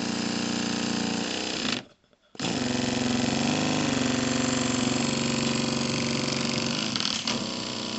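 A small handmade model steam engine, the JLS 13-2, chugs steadily and rapidly, close and fairly loud, with a brief dropout before the mechanical rhythm resumes.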